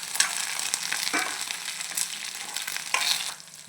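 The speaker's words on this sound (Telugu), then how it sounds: "ఇప్పుడు కరివేపాకు కూడా వేస్తాం. ఇది కూడా కిటపట్లు ఆడుతుంది." Curry leaves and green chillies crackle in hot oil for a mint chutney, a steady sizzle broken by sharp, loud pops that come every second or so, with no voices.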